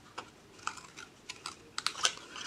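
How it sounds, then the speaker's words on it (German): Scissors snip through paper cardstock while a box-shaped greeting card is being made, giving short, crisp cuts in an irregular sequence, close and fairly quiet, with no voice. "Ich schneide jetzt immer unten rechts."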